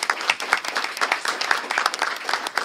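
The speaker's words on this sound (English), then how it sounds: "Give them a round of applause" Scattered, fairly thin applause from a school board meeting audience honoring a student team, individual claps audible in an uneven rhythm for a few seconds.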